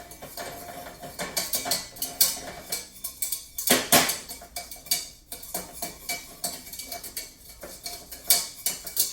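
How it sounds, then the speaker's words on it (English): A whisk beats an egg foo young mixture in a bowl, with steady, rapid clicking and scraping strokes close by, rising and falling in bursts throughout, with no talk. "now you just want to whisk this together for another 15 seconds"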